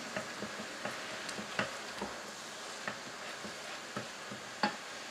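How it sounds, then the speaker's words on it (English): Half a kilo of diced venison sears in a hot pan with a faint, steady sizzle, while scattered light stirring taps and clinks sound now and then, fairly quiet and with no voices. "we're going to go in with ½ kilo of diced venison. So all we want to do now is just get a little bit of a seal on the meat"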